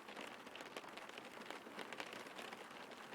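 Simulated rain in the X-Plane 11 flight simulator, version 11.50 beta, patters steadily as a faint, dense hiss of drops with no voices.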